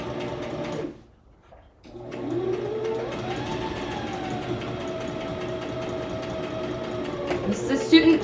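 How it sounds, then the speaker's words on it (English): A sewing machine understitches a facing to the seam allowance, running in one long steady hum after a short pause, close up with a voice talking over it. "I'm just stitching down the facing, the facing to the seam allowance"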